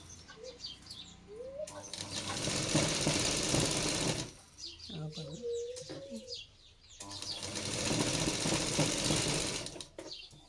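An electric sewing machine stitches a flared baby skirt in two long runs of fast, loud mechanical whirring, separated by quieter pauses with soft handling noises.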